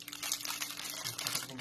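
Plastic wrapping on a loaf of bread crinkles and rustles as the package is opened, in brief close bursts, with a voice speaking over it.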